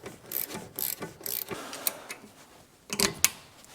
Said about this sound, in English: We can go ahead and tighten it down.